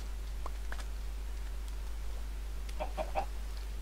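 Short clucks from a chicken in Minecraft UHC, a few brief bursts spaced through the clip, loudest near the end, over a steady low game hum.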